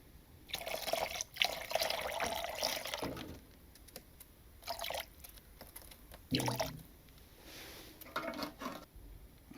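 Acetone poured into a spray gun cup to thin paint, a splashy liquid trickle in uneven bursts with brief pauses, fairly close and moderately loud, with no talking.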